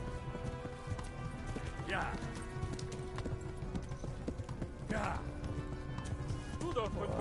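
Horse hooves clip-clop steadily at a gallop in the medieval video game Kingdom Come: Deliverance, a continuous rhythmic beat with voices talking over it throughout.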